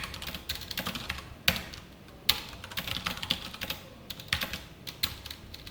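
Java code is typed on a computer keyboard: irregular, fairly quiet keystrokes with a few sharper, louder taps scattered through.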